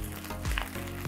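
Chinese cabbage stir-fried with salt in a hot pan sizzles loudly and continuously, with brief scraping thumps from the stirring tool tossing the leaves.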